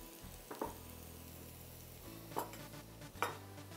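Fried rice ingredients fry softly in a pan, a quiet steady sizzle broken by three sharp scraping stirs of a utensil against the pan, close by and without speech.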